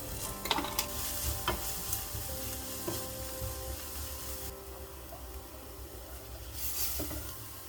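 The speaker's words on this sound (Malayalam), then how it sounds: "അപ്പോൾ പച്ചമുളകും കൂടി ഇട്ടിട്ട് നന്നായിട്ട് വഴറ്റിയെടുക്കുക." Onion, ginger, garlic and green chili sautéing in a pan, a steady sizzle with intermittent clinks and scrapes of a spoon stirring, close and moderately loud, without talk.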